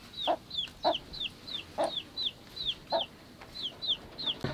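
Chickens cluck and chirp repeatedly nearby in a hen and rooster breeding pen in Thailand, short bright calls in an uneven rhythm over quiet background, no talking.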